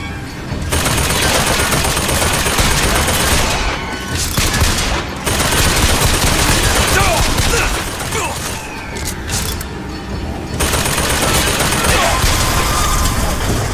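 Enemy gunfire aimed at the player in BioShock Infinite: loud, sustained bursts of rapid shots with mechanical clatter that briefly dip around four and ten seconds, then resume at full intensity.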